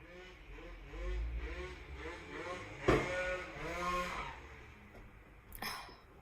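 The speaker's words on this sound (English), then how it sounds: "people drive really crazy on these bikes. That's what you can hear in the background" Motorbikes speed past on the road outside, a rising and falling engine drone with a sharp louder burst midway, heard from indoors at moderate distance.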